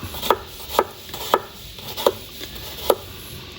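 A knife chops garlic on a wooden cutting board in five evenly spaced, crisp knocks about half a second apart, close and clear with no talking.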